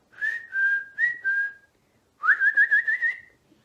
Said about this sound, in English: Can you whistle?